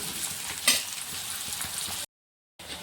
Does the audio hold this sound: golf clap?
no